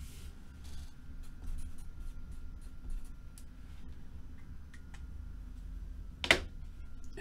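A pen scratches across a Panini Immaculate football trading card in a steady run of short, soft strokes, close and quiet, with one sharper tap near the end and no talking.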